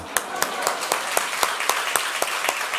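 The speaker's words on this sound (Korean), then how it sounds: "일본과 한국 사람이 결혼한 분은 박수를 쳐드려야 돼요" A congregation claps during a Korean-language church worship service. The claps are sharp and come in a regular rhythm, roughly four per second, over a murmur of crowd noise.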